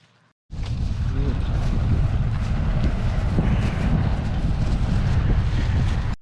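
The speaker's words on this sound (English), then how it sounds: "the wind started blowing like crazy again" Strong outdoor wind buffets the microphone in a loud, continuous low roar that starts abruptly after a brief quiet moment and holds steady to the end.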